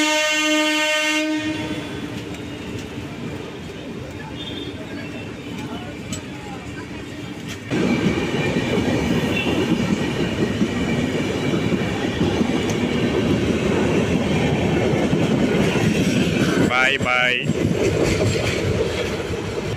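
Sanghamitra Express passenger train running between Danapur (Patna) and Perambur, with a loud steady rumble of wheels and carriage noise, a horn-like tonal blast near the start and a squealing screech near the end.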